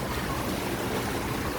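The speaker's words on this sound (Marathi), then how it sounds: "हे बघा पाऊस पडतो, सगळा पाऊस." Heavy rain pours steadily outside, a dense, even hiss with no break or pause.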